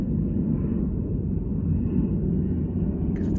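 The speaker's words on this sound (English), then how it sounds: "You guys can hear the other plane taking off now." An airplane takes off in the distance in the early morning, a steady low rumbling roar that stays constant throughout, heard from indoors without speech.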